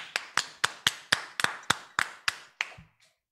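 About a dozen crisp, evenly spaced unison claps ring out close and loud for the North Kalimantan team at a children's religious knowledge quiz contest, then fade into brief quiet.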